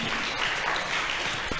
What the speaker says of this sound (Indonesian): Tepuk tangan untuk 3 divisi Kompas Society.